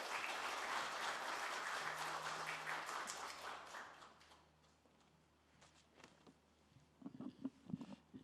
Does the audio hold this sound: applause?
yes